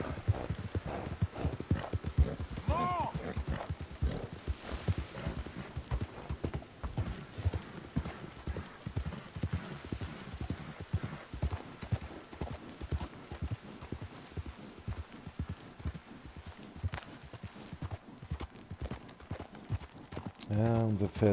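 Horse hooves clip-clopping in Red Dead Redemption 2, a long steady rhythmic trot with occasional snorts or a whinny, heard under someone talking throughout.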